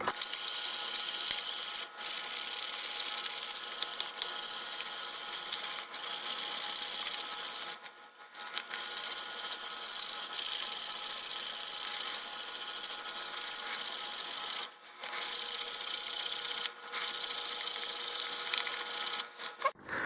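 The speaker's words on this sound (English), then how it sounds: "I'm going to give the entire nose a light sanding to help make the paint stick better." Plastic model rocket nose cone being dry sanded by hand, a continuous loud close-up scratchy rasping with brief pauses between long strokes.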